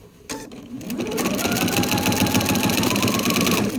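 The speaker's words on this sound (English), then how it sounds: "I make sure that I'm not sewing over any of the clipped edges." A sewing machine stitching a heavy quilt border made from scraps starts up and runs at a steady fast whir, loud and close, with a rhythmic mechanical chatter and no speech.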